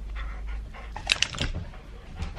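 A dog panting close by indoors, quick soft breathy puffs with a faint whimper, short and unaccompanied by speech.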